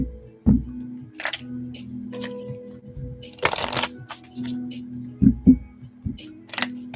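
Tarot cards are shuffled near the listener in soft riffles and a few sharp card slaps, over a faint low hum.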